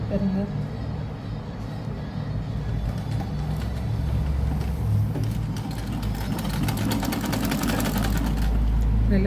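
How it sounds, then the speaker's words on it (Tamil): A sewing machine stitches a blouse neck, running in a steady continuous whir close by, with someone talking over it for most of the stretch. "இப்போ இதை வந்து மெஷினில் அடிக்க போகிறோம்"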